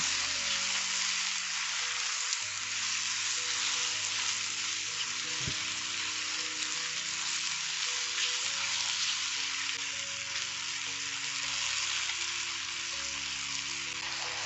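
Baby bella mushrooms sauté in a pan, sizzling and crackling steadily over high heat, a constant close hiss with an occasional scrape of stirring.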